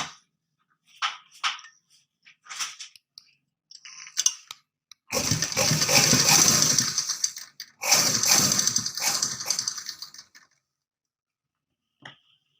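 A sewing machine runs in two bursts of several seconds each while stitching a thick layer of kurti fabric, loud and close, with short mechanical clicks and handling sounds before and a faint tap at the end.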